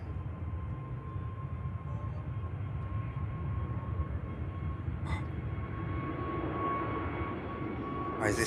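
Aircraft on the Bratislava flight at Manchester Airport, a distant, steady engine rumble with a faint whine, joined by a couple of short clicks or knocks, with no voices.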